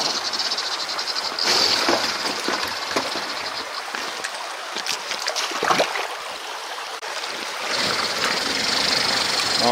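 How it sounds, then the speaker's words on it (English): A radio-controlled 6x6 off-road truck drives through water with its tires spinning, producing a continuous hissing rush of churned water over a thin electric motor whine, steady and fairly close. "All my tires are spinning,"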